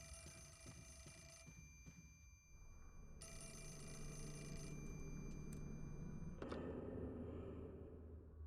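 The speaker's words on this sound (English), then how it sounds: "Oh, I have to answer the phone anyway." A video game telephone rings in repeated bursts of bright, clanging bell tone, fairly close and loud over a steady backdrop of game ambience, with a sharp click near the end.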